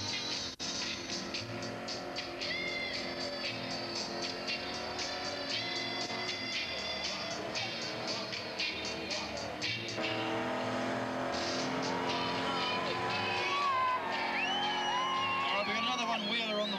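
A V8 Holden HQ one-tonner ute does a tyre burnout at a club burnout event, its engine roaring loud and steady for the whole stretch, with crowd noise and a commentator talking over it.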